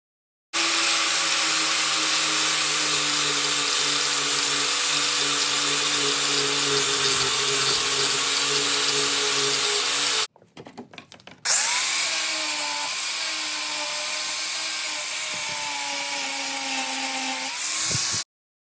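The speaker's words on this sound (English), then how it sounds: "This cleaned up really nicely with this sandpaper wheel." Sandpaper wheel on a power tool grinding a rusty railroad spike, a loud steady whining drone that runs almost continuously, cuts out briefly around the middle, then resumes at a shifting pitch.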